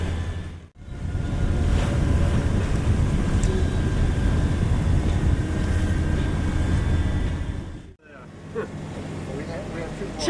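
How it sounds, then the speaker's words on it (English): A sailboat motoring under engine power in windless conditions, with a loud, steady, broadband engine and water rumble that fills the clip apart from two brief dropouts. "There's no wind to speak of, but we're motoring along, and we're doing pretty well"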